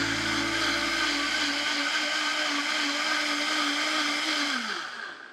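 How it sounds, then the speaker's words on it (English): A blender purees tomato, onion and garlic with salt and black pepper into a smooth sauce for Mexican red rice, a loud, steady motor whir that holds throughout and then winds down at the very end. "And I am going to puree this until completely smooth."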